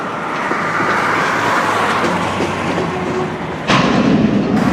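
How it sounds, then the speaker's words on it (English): Freight cars roll through a railroad hump yard with a steady low rumble and grinding, then a louder clank or thud near the end, all at moderate distance. "Here at the hump yard, they're humping cars."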